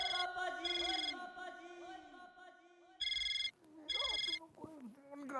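A telephone rings in a sitcom home scene, with several short bursts of shrill ringing set between and under people talking.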